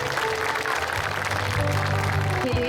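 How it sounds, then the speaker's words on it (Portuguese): An audience at a municipal daycare anniversary celebration applauds the teachers, a continuous broad clapping wash of many hands, loud and steady, with a low hum beneath it. "Então eu peço a vocês uma salva de palmas para esses professores."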